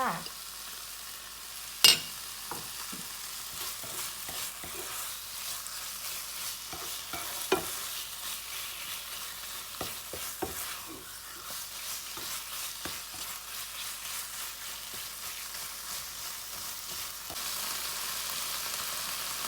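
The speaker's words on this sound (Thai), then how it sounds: "เราก็ใส่ไก่หั่นลงไปเลยค่ะ พัดไก่ให้ชุกเลยค่ะ" Chopped chicken sizzles steadily in a hot pan with curry paste while a utensil scrapes and taps as it is stirred, with occasional sharper clinks.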